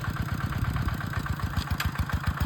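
A tractor engine chugs steadily while plowing a field after rain, a rapid, even mechanical throb that sounds moderately close and keeps going without a break.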